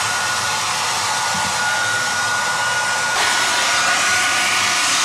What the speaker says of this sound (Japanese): ドライヤー使うか、ドライヤー。